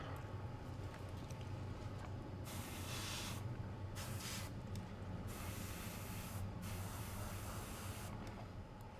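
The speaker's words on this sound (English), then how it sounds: "The paint seems super duper thin, but it actually sprays pretty well." An airbrush sprays thin paint onto a Hasegawa 1/48 C.202 Folgore model, a steady close hiss with several brief pauses and bursts as the trigger is released and pressed again.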